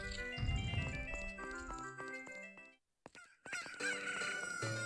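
Chiptune-style cucco chicken crowing in The Legend of Zelda: Ocarina of Time 3D rings out over busy game music, two bursts separated by a brief silent gap, bright and close.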